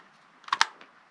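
A drone battery snaps into the back of a Holy Stone HS290 drone, giving a quick pair of sharp plastic clicks, close and crisp, then near silence.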